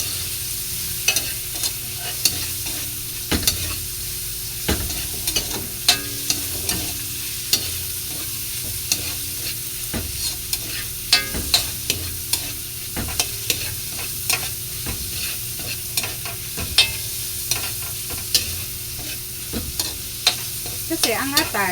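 Liver sautéing in a pan for batchoy, with a constant close sizzle and frequent sharp scrapes and clicks of stirring throughout.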